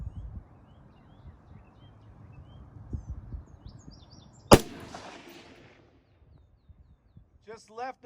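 A single rifle shot fitted with a Trigger Tech Diamond trigger, one sharp loud crack midway with a short decaying tail, outdoors amid faint background noise and birdsong, with brief speech around it.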